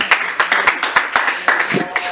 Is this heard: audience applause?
yes